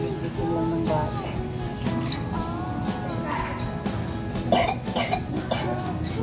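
A few coughs ring out close by amid a noisy room with faint background chatter and clatter.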